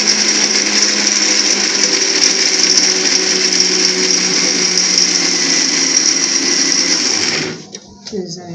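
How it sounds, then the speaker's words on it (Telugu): A mixer grinder whirs loudly and continuously while grinding almonds for a protein mix with pistachio, makhana and coconut, then cuts off abruptly near the end, leaving faint handling sounds. "ఇది వచ్చేసి బాదాము అన్నీ మిక్సీ పట్టుకోవాలి"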